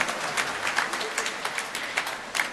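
A church congregation breaks into brief, loud applause, a bright rolling burst of many hands clapping together that pulses and fades within a few seconds.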